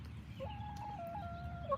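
Hens cluck softly while being fed strawberries, a few short tonal calls rising and falling over a low steady farmyard background, fairly close and moderately quiet.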